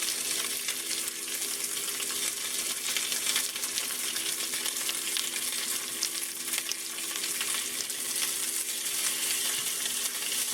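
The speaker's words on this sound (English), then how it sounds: "Caramelizing the onions first. Get them going a little bit. In the peanut oil." Onions caramelizing in peanut oil, a dense, steady close-up sizzle and crackle of frying that runs without a break and with no one speaking.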